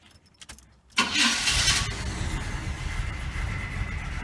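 A rebuilt 400 small block Chevy engine in a truck cranks and catches at once, then settles into a loud, steady idle after a few faint clicks and rustles.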